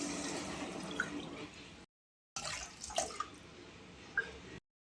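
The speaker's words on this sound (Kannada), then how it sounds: "ಎರಡು ವಾಟಿ ಹಿಟ್ಟು ತೊಗೊಂಡೇನಿ ನಾಲ್ಕು ವಾಟಿ ನೀರು ಹಾಕೋತೀನಿ" Water is poured into a pot to cook ragi mudde in a home kitchen, a soft splashing trickle with a few drips, broken by a short pause before pouring resumes.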